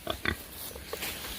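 Pigs oink and grunt in short bursts as they are fed zucchini and squash, a few quick snorts close by over light background noise.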